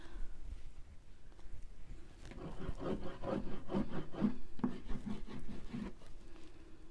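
Scraping on a thickly built-up mixed media art surface, a steady rough rubbing rasp that grows denser and louder partway through, with repeated short strokes, close up and with no talking.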